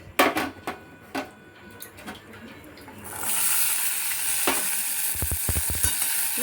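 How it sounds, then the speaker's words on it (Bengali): Grated coconut drops into hot oil in a wok already used for frying potatoes, bursting into a loud, steady sizzle after a few sharp clanks and taps at the start, with spoon scrapes near the end. "এবার কড়াই ওই তেলটাতেই আমি নারকলটা ভেজে নেব"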